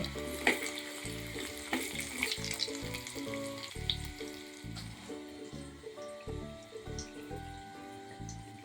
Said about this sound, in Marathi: तेल छान गरम झालेलं आहे आता मी त्याच्यामध्ये चार पाच पकड्या किसलेला लसूण घालून घेते आणि पाव चमचा हिंग